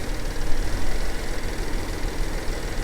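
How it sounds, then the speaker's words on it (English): A car engine idles a little roughly, a close, steady, rumbling hiss without pauses over a few seconds. "the idle is definitely a little rough"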